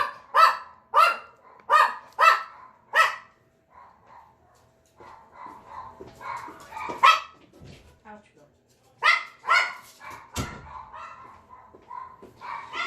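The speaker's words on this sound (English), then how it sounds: "Somebody rang the doorbell, and that sets the bark alarm off." A dog barks repeatedly at close range in rhythmic bursts, set off by a doorbell, pauses, then barks again more excitedly, with a few softer yips between.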